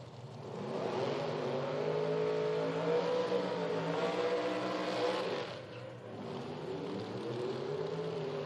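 Two drag racing cars with small carbureted supercharged blower engines launch in a Top Sportsman round, a loud, sustained rising engine roar that dips briefly before carrying on.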